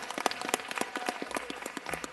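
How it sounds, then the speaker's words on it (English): Audience clapping at a city council meeting, a short burst of distinct hand claps with an uneven rhythm from a modest group, fairly close and with no talk over it. "let's welcome with a big round of applause Mr. Anthony Hemingway."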